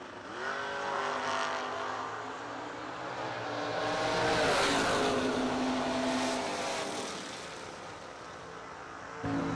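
A Camaro drag racing car accelerates down the track at a drag strip event. The engine roar swells and then fades, loud and sustained, amid the general noise of the strip.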